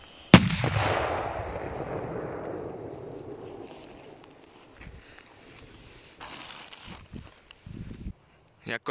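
A single sharp category F4 firecracker bang, followed by a long fading rumble and echo, then faint scattered sounds.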